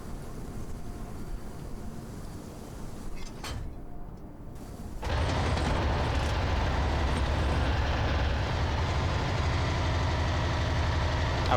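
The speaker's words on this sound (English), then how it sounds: "I will have to disable the engine" A vehicle engine idles steadily in a video game, a low constant rumble that grows louder and fuller about halfway through and then holds.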